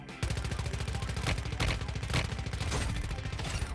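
Rapid automatic gunfire in Warzone Mobile rattles continuously after a sudden start, loud and dense, with a few heavier bursts standing out.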